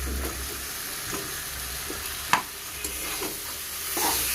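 Pointed gourd frying in a spice mixture in a pan, a continuous close sizzle with occasional stirring knocks and scrapes, with no voices.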